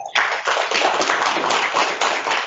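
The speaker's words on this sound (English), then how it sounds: "he deserves a big round of applause for" An audience breaks into applause for a speaker at an annual STEM Day event, a dense burst of many hands clapping steadily for a couple of seconds.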